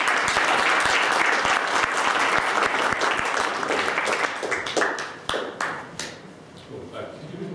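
An audience in a memorial lecture hall applauds to welcome a lecturer to the stage, a loud, dense wash of clapping that thins toward the end into separate, scattered claps.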